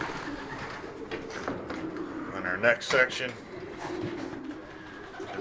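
Racing pigeons, including a few old hens, coo in a loft, a steady murmur of coos that swells briefly in the middle while someone speaks over them.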